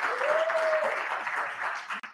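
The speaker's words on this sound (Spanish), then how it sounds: "Un aplauso para él, por favor." Audience applause at a football and film festival in Tocopilla greets the festival director, a steady wash of clapping that holds for about two seconds before cutting off abruptly.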